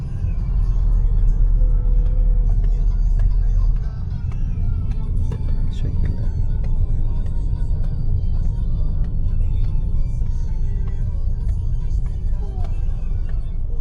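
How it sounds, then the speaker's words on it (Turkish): Istanbul road traffic in a car, with a steady, loud engine rumble and passing vehicles close by, a brief deeper rumble at the start, and a faint air-brake hiss, under no clear talk. "Yine İstanbul trafiği oldu her zamanki gibi trafik var."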